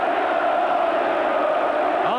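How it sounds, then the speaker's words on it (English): Football crowd at Ayresome Park, Middlesbrough, roaring and celebrating a goal against Aston Villa in a Zenith Data Systems Cup northern final; loud sustained stadium cheer with a commentator's voice over it. "And the crowd here celebrating now."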